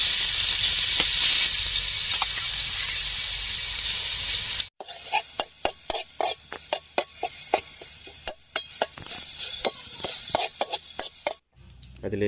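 Chili and onion paste sautéing in hot oil in a pan, with a steady sizzle and frequent sharp scraping stirs close by, interrupted briefly by a pause.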